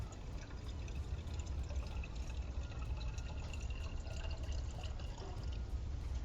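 Water pours steadily into a homemade stock pot water filter, a continuous close splashing and filling sound with faint dripping, and no voices over it.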